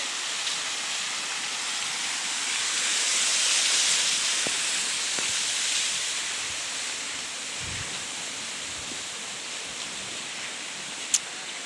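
Steady rushing floodwater flows continuously across a road with a broad hiss, moderately loud, with a few faint clicks and a short sharp tap near the end.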